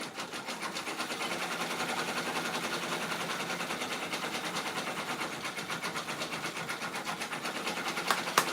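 An embroidery machine stitches out an applique design on a shirt, a fast steady mechanical chatter of the needle running continuously at close range with a couple of small clicks near the end.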